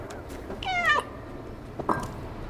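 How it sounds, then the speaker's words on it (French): A cat meows in the video game Stray: one longer, rising meow, then a second brief meow about a second later, both fairly close and clear over a faint background. "Ah! C'est un chat."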